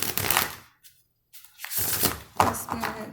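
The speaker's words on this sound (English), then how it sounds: "If shuffling bothers you, please fast forward" Tarot cards are shuffled by hand in close, loud riffling bursts, broken by a brief silent pause before the rapid flutter resumes.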